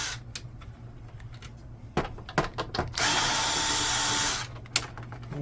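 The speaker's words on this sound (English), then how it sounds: "So there's a screw right here and one right here. I'm going to get those out." Screws are backed out of an HP DeskJet 3510 printer with a power driver. Several short clicks and handling knocks come first, then one steady whirring run of about a second and a half, and a final click.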